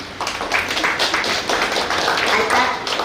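An audience at a hospital event in Karkala breaks into applause, a steady wash of many hands clapping at moderate loudness for about three seconds.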